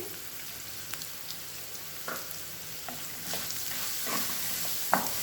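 Onions with salt and turmeric frying in a pan for poha, a soft constant sizzle with occasional light stirring clicks and scrapes, fairly faint and without talk.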